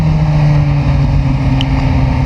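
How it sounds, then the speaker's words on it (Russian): Kawasaki Z900 motorcycle from 2022 with an Aero aftermarket exhaust, giving a loud, steady, untuned engine drone that holds an even level throughout with no clear revving. "Причем конкретно этот выхлоп Aero, да, в нем нет нет какой-то тональности"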